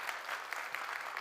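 A church congregation applauds to welcome visiting graduate students, a dense, even burst of many hands clapping together, moderately distant and sustained through the moment with no talking over it.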